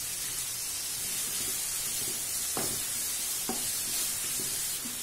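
Onion sautéing with chopped ginger and garlic in a pan gives a steady, close sizzling hiss, broken by a few soft stirring scrapes and knocks.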